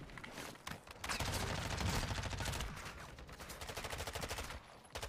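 Rapid bursts of automatic gunfire from Warzone 2.0, sustained volleys and a dense fusillade that rise and fall over several seconds, loud and close, with game ambience between the bursts.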